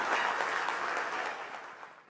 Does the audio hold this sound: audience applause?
yes